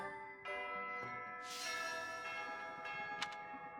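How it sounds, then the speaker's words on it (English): A bell chimes in the Fire Emblem: Three Houses video game, several struck tones ringing with long sustained overtones that overlap and decay, clear and alone with a soft shimmer of added brightness midway. "The Fire Emblem theme and the bell."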